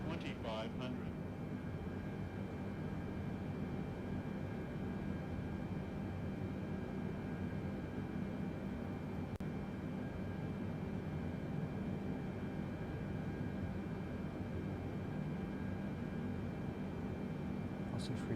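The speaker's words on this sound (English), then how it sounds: "Right, flaps are set. Aircraft's descending." A British Airways Boeing 747 descends with flaps set in Microsoft Flight Simulator 2020. A steady, low engine and airflow drone holds unchanged throughout, with a few faint clicks at the very start and end.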